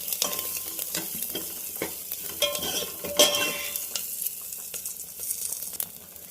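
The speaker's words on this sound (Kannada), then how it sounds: "ಇದನ್ನು ಮೀಡಿಯಮ್ ಫ್ಲೇಮಲ್ಲಿ ಇಟ್ಕೊಂಡು ಹುರಿರಿ, ಯಾಕಂದರೆ ಸೀದೋಗ್ಬಿಡುತ್ತೆ." Ingredients fry in a pan over a medium flame, with a soft constant sizzle broken by repeated scraping stirs and light clinks of a utensil against the pan, close and fairly quiet, no voices.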